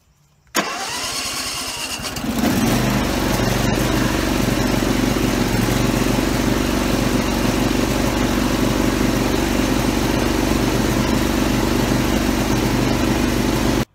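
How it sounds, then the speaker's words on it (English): A Husqvarna zero-turn mower engine cranks briefly, catches and starts, then settles into a loud, steady, close running rumble that continues without a break. "now we got to see if she starts"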